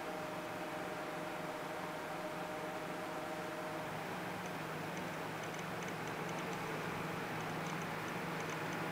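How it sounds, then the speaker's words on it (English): A KnCMiner Jupiter Bitcoin ASIC miner with 28nm chips starts up, giving a steady broadband fan-like whoosh at low level with faint rapid ticking clicks in the second half. "This is the sound of a"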